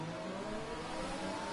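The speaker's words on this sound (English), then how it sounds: "So all revved up for the light." F1 2021 video game race cars holding high revs on the grid before the start at the France round, a dense steady engine whine with no pauses and no voices.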